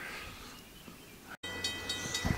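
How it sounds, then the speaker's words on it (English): A train passes near road construction outside Limoges, heard as a faint rumble and then, after a brief cut, a thin sustained squeal with some rattling. "Yes, folks, it's the train."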